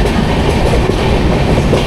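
The Sealdah–NJP Darjeeling Mail runs along the tracks near Dakshineswar station, heard from on board as a loud, continuous rumble with rhythmic wheel clatter over rail joints.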